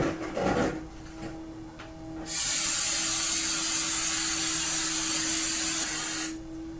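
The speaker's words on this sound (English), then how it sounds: "this is the best time to break out your brake clean" Brake cleaner sprayed onto the drum brakes of a 2017 Toyota Corolla, a loud, close, continuous aerosol hiss lasting about four seconds after some faint handling noises.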